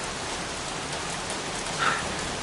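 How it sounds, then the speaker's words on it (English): Steady rain falls in a dense, even hiss that fills the whole stretch, close and constant with no speech over it. "Goddamn rain. Soaking wet."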